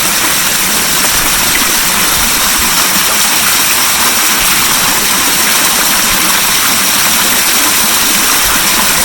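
A Speck Badu variable speed swimming pool pump runs at 1900 RPM on preset 1, a loud, constant, close rushing whir mixed with flowing water, steady throughout with no pauses.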